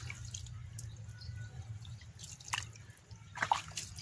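Water flowing from a drainage channel into a silkworm (tubifex) breeding tank, a soft steady trickle with scattered close drips, fairly quiet, with no voices.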